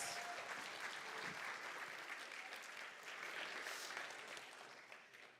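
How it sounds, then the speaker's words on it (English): Steady applause from a startup showcase audience for the panel of judges, a dense even patter of clapping heard at moderate distance that swells slightly and then tapers toward the end. "Round of applause for our panel of judges."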